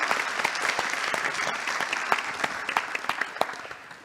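A seated audience claps steadily at the close of a panel session on science and society, a dense, even patter of many hands that stays fairly strong and fades slightly at the end, with no talking over it.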